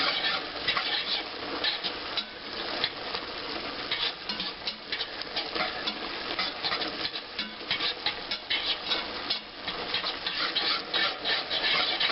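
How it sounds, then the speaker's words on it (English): Spoon stirring seafood gumbo with Cajun seasoning in a pot, a continuous scraping, rubbing rhythm close up with light clinks against the pot, no voices. "We're going to give that a little stir."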